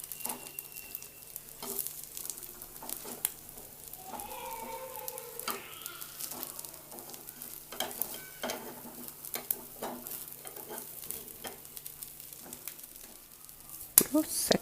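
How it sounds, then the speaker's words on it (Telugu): An egg dosa sizzles quietly in oil on a griddle as a spatula presses and scrapes it with scattered soft taps, while faint talk and a low hum sit in the background. "ఆయిల్ వేసుకొని అట్ల కాడతోటి ఇలా వత్తండి"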